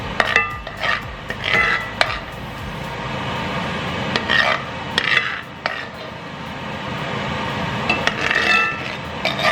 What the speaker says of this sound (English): what I want to do next is pan sear the oxtails